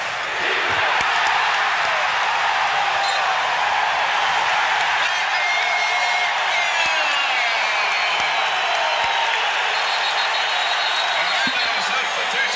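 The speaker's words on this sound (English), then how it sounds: "listen to the crowd yell for defense." A dense basketball arena crowd at an NBA game roars and yells continuously for defense, a loud, sustained wall of voices with faint whoops rising above it.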